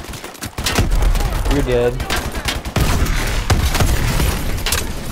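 Shotgun blasts and heavy gunfire in the video game Call of Duty Advanced Warfare, with sharp loud shots in quick succession over busy combat noise, and someone speaking briefly over the action.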